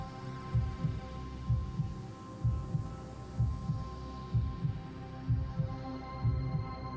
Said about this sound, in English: broken only by the sound of our own breathing, the sound of our own heartbeats